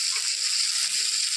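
Steady, bright hiss of Mahurali fish frying in hot oil, prepared Bengali style in a home kitchen, close and continuous with no talking.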